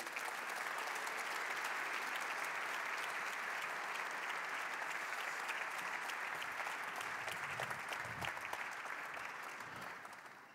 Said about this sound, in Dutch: Vos applaudissements encourageants pour les stars de la soirée.